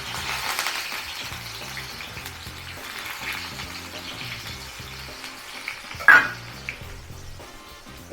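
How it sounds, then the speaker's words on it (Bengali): Carrots sizzling and frying in hot oil in a pan, a steady close crackle throughout, with a brief sharper spatter burst near the end. "তেল গরম হয়ে গেছে, গাজরটাকে ছেড়ে দিলাম।"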